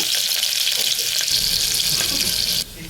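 Chopped onions and coriander leaves frying in hot oil, a loud, continuous crackling hiss close by that steadies after stirring and then drops suddenly near the end.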